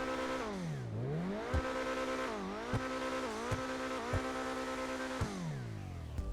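An Invetero Coquette D5 sports car engine in GTA Online revs up and down repeatedly, its pitch swooping low and climbing back several times, with sharp clicks between the revs and no talking.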